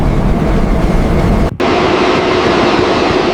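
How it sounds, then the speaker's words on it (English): Roaring engine noise from a Boeing Dreamlifter cargo aircraft in flight, a loud steady broadband rumble with a brief dropout partway through, then a sustained tone. "Boeing 787 Dreamliner parts take to the skies in the Dreamlifter."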